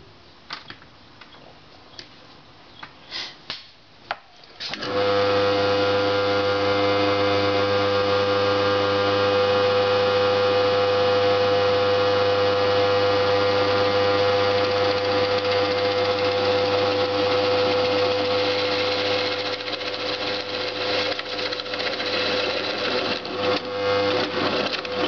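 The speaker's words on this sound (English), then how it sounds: "I'm just going to try to correct that on the drill press" A drill press bores into a wooden game board with a steady, continuous motor hum and whir, starting after a few seconds of faint handling noises.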